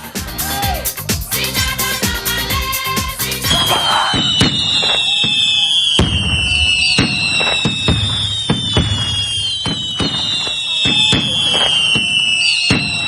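Fireworks go off loudly at a village church festival: a rapid crackling volley of firecracker bursts, then whistling rockets shrieking upward, with sharp bangs and crackles scattered through the sustained display.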